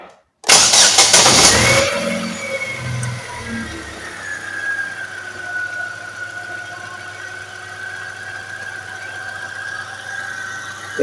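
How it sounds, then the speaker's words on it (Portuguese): A car engine cranks and catches after repair of a false air leak at the intake, with a loud burst of starter and squeal at first, then settling into a steady idle with a whining tone, no talk. "Agora eu vou ver como que vai ficar a partida desse motor."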